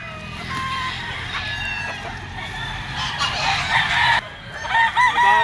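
Roosters crow repeatedly at a crowded Filipino chicken market, several birds overlapping amid clucking and steady background crowd noise, with louder nearby crows toward the end.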